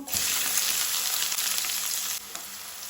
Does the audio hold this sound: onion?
yes